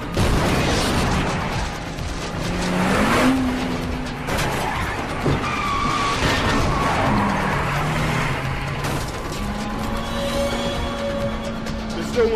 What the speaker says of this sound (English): I'm gonna show you a clip of what happens when you drive too fast in these barricaded shuttle buses